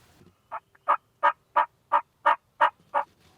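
Wild turkey toms gobble from a hill about 100 yards away, a run of eight rapid, rhythmic gobbles at moderate distance, clear and alone.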